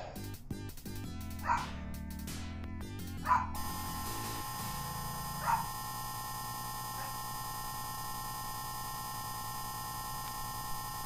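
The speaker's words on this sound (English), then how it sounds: "That dog just asked for pizza." A dog in the VR game Troopers gives a few short, clipped bark-like yips spaced over several seconds, sitting over a steady background of game music and ambient hum.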